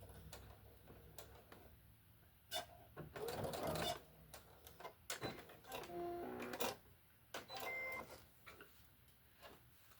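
A sewing machine running short bursts of back stitches, with intermittent mechanical clatter and pauses between runs, close and moderately loud.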